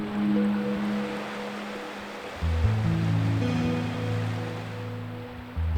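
A creek flows through a snowy forest, its water rushing in a steady, continuous wash with a low undertone that swells slightly midway.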